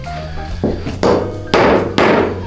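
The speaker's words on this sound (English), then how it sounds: "And you're swinging, again, hand at the end of the hammer" A hammer drives a nail with four firm, evenly spaced strikes, each a loud close bang with a short ringing decay, and no talking in between.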